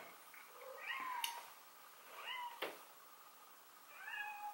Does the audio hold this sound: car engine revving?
no